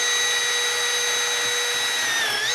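A hammer drill with a masonry bit grinds into concrete, a loud continuous high whine that holds steady throughout with a slight pitch dip near the end.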